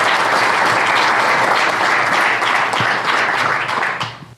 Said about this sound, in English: Could I get a round of applause for our board and our teammates here?